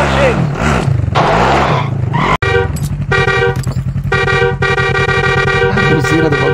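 A vehicle horn blares in the Warzone video game, loud and close: a couple of rough honks, then a sustained steady horn tone lasting several seconds over engine rumble, with voices talking.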